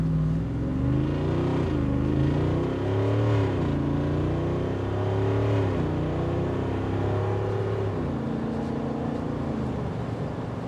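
A 2025 Jeep Wrangler Rubicon 392 with its 470-horsepower engine pulls hard, the loud deep exhaust note rising and dropping through repeated gear changes, heard close and steady.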